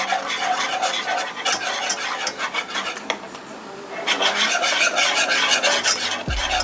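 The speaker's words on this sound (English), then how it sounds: "We're going to whisk it all together." Melting butter sauce for crab legs is whisked in a pan, making a busy, rasping scrape and rhythmic clatter of the whisk against the pan, close and fairly loud, briefly easing before picking up again.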